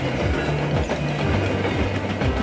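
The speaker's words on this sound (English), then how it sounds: "The train's taking two new dump trucks to the warehouse. He's going very fast." A cartoon train speeds along its rails with a steady rumble and an even clickety-clack roughly every half second, alone with no voices.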